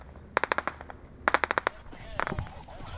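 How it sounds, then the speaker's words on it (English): Soldiers trade fire with the Taliban. Two rapid bursts of automatic gunfire, each about six sharp cracks, ring out close and loud, followed by rougher, overlapping shots and noise. "his men are exchanging fire with the enemy"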